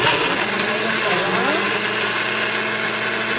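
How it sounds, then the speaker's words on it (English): A blender grinds roasted vegetables and onion for homemade tomato sauce at high speed, a loud continuous whirring motor roar with no pauses. "It's grinding up all those roasted vegetables."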